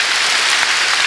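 Congregation clapping during a Korean church worship service, a steady dense patter of many hands filling the whole brief moment without any voices.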